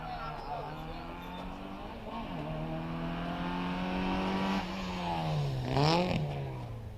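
A Healey Sprite race car at a hillclimb revs near the apex, then accelerates away with rising and falling engine tones. A commentator talks over the engine throughout.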